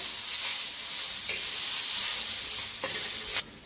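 Chillies and peanuts roast in a hot pan, sizzling with a steady, close hiss while being stirred, with occasional scraping accents. The sound drops off sharply just before the end.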